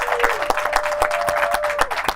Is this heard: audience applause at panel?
yes